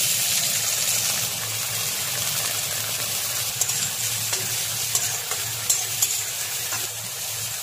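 Onions frying in a pan with cumin, black cumin, ginger, garlic and green chilli for a cauliflower and potato dish, as they are stirred: a dense steady sizzle with light scraping clicks that come more often toward the end, close and unbroken.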